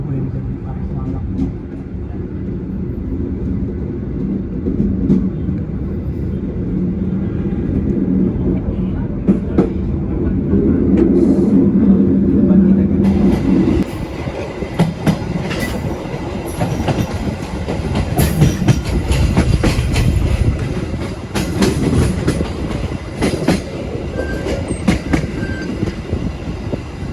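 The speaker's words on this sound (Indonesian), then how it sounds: "Sebelah kiri kereta kita masuk ada kereta komuter The Wind dari arah Malang." Commuter train arriving from Malang passes alongside on the left near crowded Wonokromo station, a loud continuous rumble with clattering wheels and rail noise that brightens and grows busier partway through, heard from aboard another train.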